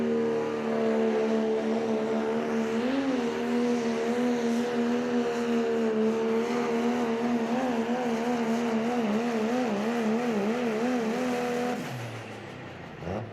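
Pro stock diesel truck pulling a sled at a Pro Pulling 2021 event, its engine roaring loud and sustained with wavering pitch for about twelve seconds before dropping off.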